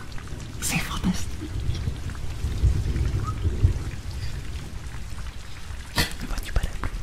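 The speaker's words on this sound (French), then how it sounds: "N'entends-tu pas la pluie non plus?" Steady rain falling with rolling rumbles of thunder, soft and close, with occasional faint louder crackles and a quiet voice murmuring underneath.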